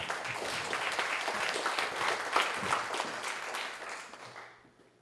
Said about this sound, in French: Une bonne main d'applaudissement pour notre candidat.